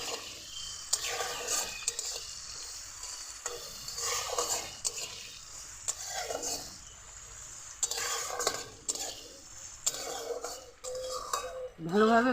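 Peanuts and chopped coconut pieces being dry-roasted and stirred in a pan for coconut chutney, with steady scraping and clinking of a utensil against the pan and a faint sizzle throughout.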